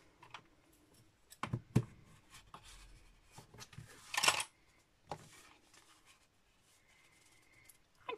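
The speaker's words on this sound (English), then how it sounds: "fold and burnish it now" Thick whisper white cardstock is folded and burnished, producing quiet close creases, taps and a brief louder rubbing swipe, scattered across a near-silent background.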